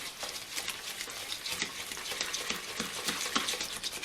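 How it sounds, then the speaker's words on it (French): Sfenj batter is beaten energetically by hand in a bowl, giving a quiet, rapid, wet slapping and churning rhythm that continues without pause. "je vais venir mélanger, voilà, de manière très énergique notre mélange"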